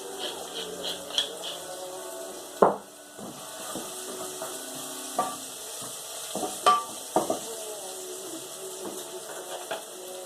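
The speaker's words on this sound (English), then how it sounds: "It's sizzling quite a lot there" Steady faint sizzle of oil in a frying pan with mushrooms, chillies and garlic, with scattered clinks and scrapes of a utensil.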